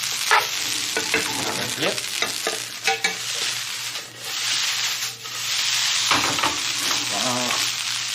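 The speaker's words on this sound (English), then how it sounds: "Just gonna give this a little stir." Garlic fried rice with spam and bacon being stirred in a hot pan, a steady close sizzle of frying with scraping and rubbing strokes of the utensil throughout, and a brief spoken word.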